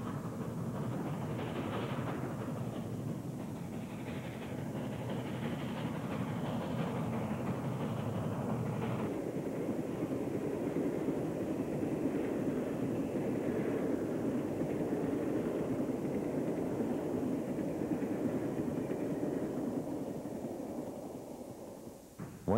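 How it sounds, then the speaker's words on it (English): A steam train with many cars rumbles past at a distance, a long steady roar of wheels and cars that holds for a while before slowly fading. "putting on a real show for us with a plume of smoke is the Denver local train number 52"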